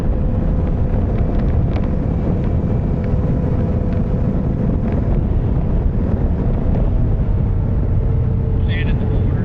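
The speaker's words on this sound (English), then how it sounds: "I'm getting like side buffeting though, but that's probably just the wind" Wind buffets a rider on a 2026 Kawasaki KLE 500 SE motorcycle, making a constant loud, low roar that blankets everything for the whole ride segment without letting up.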